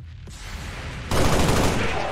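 A loud burst of rapid gunfire in XCOM 2: War of the Chosen erupts partway through and keeps going as a dense, sustained volley, with no voices.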